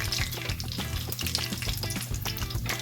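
Turkey pieces fry in a pan for a Haitian-style smothered turkey, giving a steady, dense crackling sizzle that holds close and loud throughout with no talk over it.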